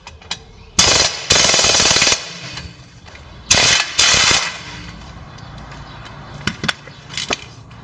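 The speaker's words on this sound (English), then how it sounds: "Now we unscrew the nut from the bottom of the ball joint." Bursts from an impact wrench loosen the 17 mm nut under a ball joint on a Chevrolet, four loud rattling hammering runs of about a second each, close by, separated by quiet shop noise and small clicks.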